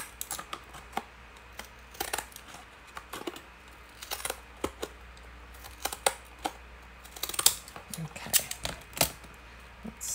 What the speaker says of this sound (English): I can always go in with my scissors and make that happen.